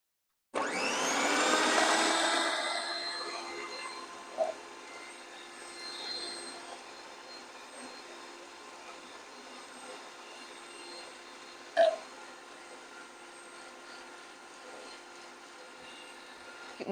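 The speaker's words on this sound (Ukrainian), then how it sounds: "І включаємо міксер, щоб жовтки гарно з цукром поєдналися, збилися у пишну масу." Electric hand mixer beating egg yolks with sugar, a steady whirring motor drone that starts loud and settles into a continuous, slightly quieter hum with a couple of brief clicks.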